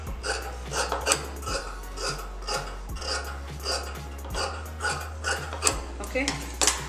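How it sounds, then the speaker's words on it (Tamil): Blouse fabric being cut with scissors, a steady run of soft, close snipping and rustling strokes repeating roughly every half second. "எடுத்துட்டு எக்ஸாக்ட்டா நம்ம இத கட் பண்ணிக்கலாம்"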